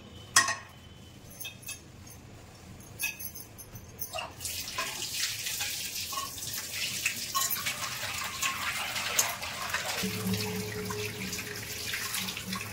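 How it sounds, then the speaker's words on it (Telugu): Bowls being washed at a sink: a few clinks of dishes at first, then tap water runs steadily and fairly close, splashing over the bowls with occasional knocks, without any talk. "ఇప్పుడు అది కడుగుతున్నాను, బౌల్స్ అన్ని కడుగుతున్నాను"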